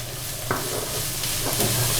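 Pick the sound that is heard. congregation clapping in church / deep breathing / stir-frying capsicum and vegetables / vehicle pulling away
stir-frying capsicum and vegetables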